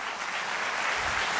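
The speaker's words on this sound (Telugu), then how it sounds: "క్లాప్స్ ఇవ్వండి సార్కి" A boot camp audience in Warangal claps for a madam, a brief steady burst of dense applause at moderate level.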